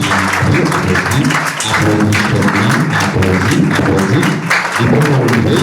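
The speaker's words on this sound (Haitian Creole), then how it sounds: "Applaudis Saint-Esprit. Applaudis." A church congregation claps and sings loudly together in a steady rhythmic beat, voices and hand claps blended into a dense, close, continuous sound.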